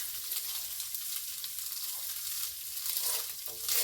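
Home-canned ground beef browns in a pan, giving a loud, steady sizzle and frying hiss that runs throughout, with soft stirring scrapes and no talk.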